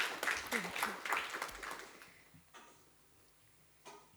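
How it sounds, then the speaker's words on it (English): An audience at a youth leaders' dialogue event claps in welcome for a speaker. The applause is a faint, dense patter that fades over about two seconds, followed by a few scattered claps. "We welcome Didi with a big round of applause."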